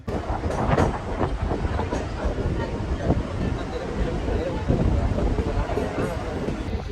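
A local commuter train in Mumbai runs on its way to Chinchpokli station during monsoon rain. A steady rattling rumble of the carriages continues throughout, with voices mixed in.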